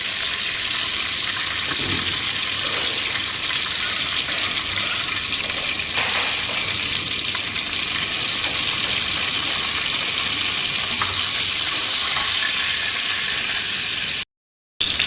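Dried red chillies and curry leaves crackle in hot oil for a goat offal curry, a steady bright hiss of frying that holds close and loud for the whole stretch, with no one speaking.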